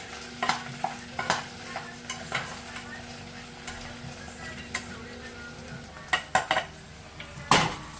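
Hash being stirred as it fries in a pot, with scattered scraping and clinking accents over a low, steady sizzle, a louder clatter near the end.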